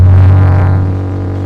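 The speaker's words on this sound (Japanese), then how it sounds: "じゃあ、軽く吹かすよ。" A Suzuki Wagon R MH21S/MH22S with an aftermarket muffler gives a short, light blip of the throttle, a loud, close, low exhaust drone that swells briefly and then eases back toward idle.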